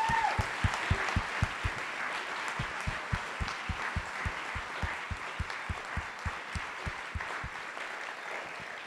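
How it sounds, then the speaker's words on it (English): Audience applause at closing remarks of a conference, steady sustained clapping from a crowd heard at moderate distance, with a few individual claps standing out in a regular pattern. "if we could give him a round of applause"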